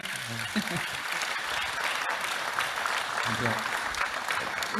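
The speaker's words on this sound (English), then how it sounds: "Please, round of applause for our special guests today." An audience at the Alpine A390 world premiere applauds guests on stage. The dense, steady clapping fills the hall, with voices mixed in throughout.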